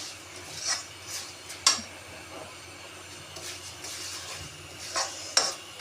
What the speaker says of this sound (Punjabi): ਤੇ ਚੀਨੀ ਨੂੰ ਘੋਲ ਲਈ ਹਲਾਉਂਦੇ ਹੋਏ ਘੋਲਾਂਗੇ